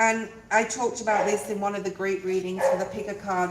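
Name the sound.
dog barking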